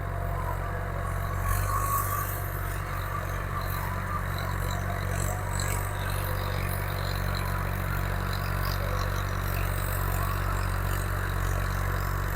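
A tractor engine idling steadily in a field being prepared for potato planting, a continuous low rumble with light clatter, close and unchanging, no talking.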